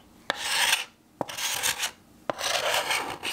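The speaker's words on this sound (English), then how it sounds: "I'm cleaning off the varnish." Varnish is scraped off a wooden paddle in three rasping strokes, each opening with a sharp click and trailing into a harsh, close scratching rub.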